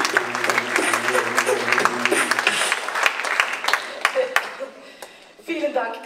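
An audience gives sarcastic applause at the Big Brother Awards 2019 ceremony: dense crowd clapping with sharp individual claps and some voices, thinning out toward the end before a brief final burst.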